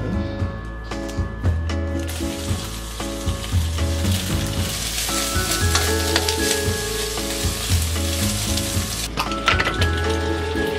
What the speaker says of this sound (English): I'm gonna cook some stir fry really quick